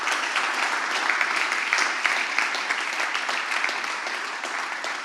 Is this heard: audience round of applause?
yes